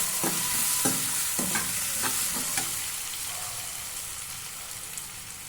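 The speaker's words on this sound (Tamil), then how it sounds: "முள்ளங்கி நல்லா வதங்கட்டும்." Radish pieces frying in a pan for a dried-fish curry, stirred with several quick scraping strokes over a steady sizzle that softens slightly toward the end, heard close and without any talking.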